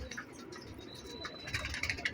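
Old Gulabsare pigeon, a cross of two breeds, cooing softly with short low murmuring calls, faint and nearby.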